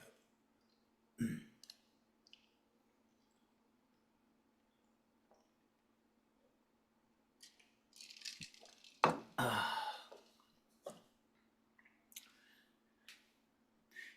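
A computer mouse clicked during an online meeting to open a link in a new tab: sparse, faint, close clicks scattered through near-silence, with a brief cluster of handling noise in the middle.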